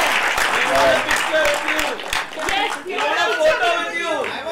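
A cinema audience at a film screening at PVR Juhu claps and applauds in a dense, sustained burst, with someone talking and some chatter over the clapping.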